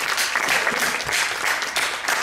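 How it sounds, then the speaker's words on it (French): Audience applause at a festival, loud and dense, a continuous wash of many hands clapping with slight swells in intensity and no speech over it. "Vous pouvez l'applaudir, je crois."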